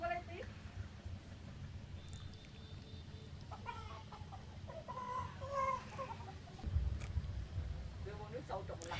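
Live chickens cluck and squawk in scattered bursts at a riverside market in Da Nang, Vietnam, mixed with crowd murmur and market bustle at moderate distance.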